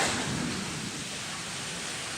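Afternoon summer thunderstorm in Florida with a steady, dense hiss of heavy rain and a low rumble of thunder underneath, continuous and fairly soft throughout with no talking.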